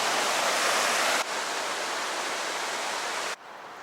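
The South Platte River in Denver rushes as a steady, broadband roar close by, continuous with no voices, dropping slightly in level partway through.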